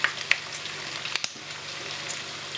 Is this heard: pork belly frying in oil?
yes